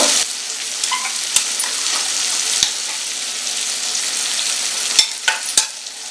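Lemon pickle being stirred in a hot pan, a steady sizzle and frying hiss broken by sharp scraping clicks of the spoon against the pan, heard alone without talk.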